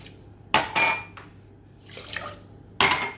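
Water is poured onto sugar in a pot for basbousa syrup, with a few short splashing pours and light clinks of a glass against the pan, close by.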